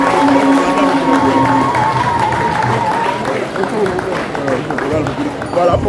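A festival crowd at the Nekang festival in Bamougoum, Cameroon applauds and cheers in a continuous, loud wash of clapping, with a voice speaking over it.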